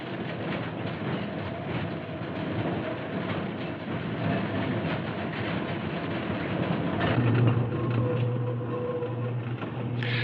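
Key System electric interurban train riding through a private right-of-way between buildings and houses, heard from the front car as a steady, loud rumble and rattle over ten seconds with no talking.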